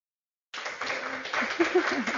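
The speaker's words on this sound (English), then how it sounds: "So let's give Chris and Lauren a round of applause." After a brief silence, a small library audience at a Banned Books Week celebration starts clapping, moderate and close, with a voice or two mixed into the applause.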